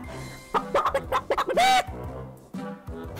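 Chickens on a small rural farm clucking close by, a run of quick clucks followed by a longer drawn-out squawk, then a few more clucks.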